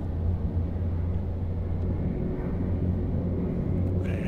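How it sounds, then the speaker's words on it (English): A propeller plane in the video game H1Z1 King of the Kill drones overhead as a steady low rumble that holds at a constant level from start to finish, with no voices. "Okay, I hear another plane coming in."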